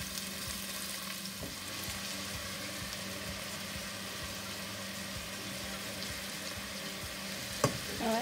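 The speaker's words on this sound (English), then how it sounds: "So I'm gonna start with my onions and peppers." Onions, peppers and green onions sauté in a pan, giving a steady, even sizzle that holds through the whole stretch with a low background hum, and a single sharp clink of a utensil near the end.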